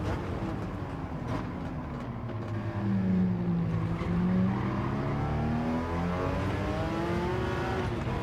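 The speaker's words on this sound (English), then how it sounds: "Oh, that car sounds pretty good," Race car engine in the Gran Turismo 7 racing game, a steady droning hum with rising and falling pitch sweeps as it accelerates and shifts, continuous and fairly close throughout.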